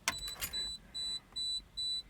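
Four evenly spaced electronic beeps from an old truck left with its lights on and key removed, high and steady, each lasting about a quarter second, after a couple of brief clicks; fairly quiet, no talking.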